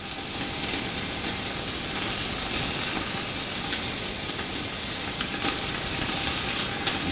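Beef chunks fry in a very hot soup pot with a continuous close sizzle, a bright steady hiss and crackle that holds at constant loudness, heard alone without voices.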